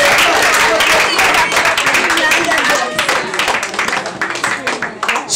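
Lively audience clapping at a school SDGs launch event, loud and close with many sharp individual claps, a dense burst that gradually thins and becomes more scattered toward the end, with some voices mixed in.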